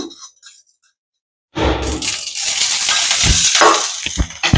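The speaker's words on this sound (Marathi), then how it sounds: "लसूण थोडस तेल घालूया" Garlic and green chillies hitting hot oil in a pan set off a loud, close, sudden sizzle after a brief pause, a bright crackling hiss with clinks from the pan, and no one talking.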